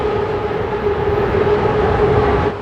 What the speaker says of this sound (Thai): BTS 2ขบวนสวนทางเลยครับ